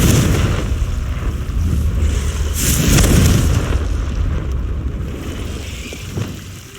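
A Confringo spell in the Hogwarts Legacy video game sets off a loud, booming explosion that swells to a peak and then slowly rumbles away.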